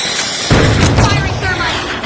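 A thermite breaching charge goes off in a tactical shooter match, a sudden loud burst that flares into sustained crackling, hissing roar for over a second amid game noise.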